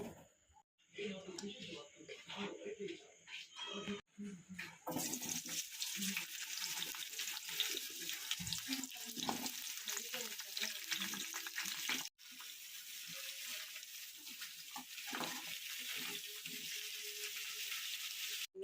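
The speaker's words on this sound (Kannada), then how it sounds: "ಕಟ್ ಮಾಡಿ ಇಟ್ಕೊಂಡಿರೋಂಥ ನುಗ್ಗೆಕಾಯಿನ ನಾನು ಇದರಲ್ಲಿ ಹಾಕಿ ಚೆನ್ನಾಗಿ ಒಂದು ಐದು ನಿಮಿಷ ಹುರ್ಕೊಂಡಿದ್ದೀನಿ" Cut drumstick pods fry in a pan, a steady hiss and sizzle with stirring clatter and short pauses, while a person talks over the cooking.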